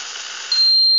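Electronic alarm beep from a combat robot prototype for war fields on detecting metal: a steady high tone that suddenly grows louder and settles into a sharp, continuous pure beep, close and alone.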